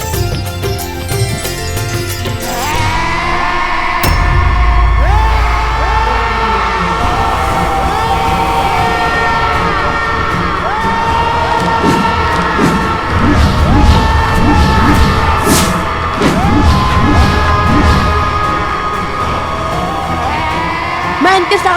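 Loud, sustained screaming war cries ring out in a mythological Ramayan battle scene, with voices yelling and bellowing over a dense, chaotic wash of dramatic music and clashing noise throughout.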